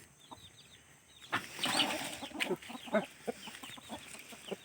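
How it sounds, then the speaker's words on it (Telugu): Fighting roosters cluck and squawk close by in a busy, irregular chorus, with a louder burst of flapping and calls partway through. "ఇంకా చాలా రకాల పుంజులు అయితే ఉన్నాయి"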